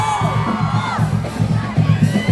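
A crowd cheers and shouts at a street parade of film stars in Makati City, bursts of whoops and excited voices rising in waves, loud and close throughout.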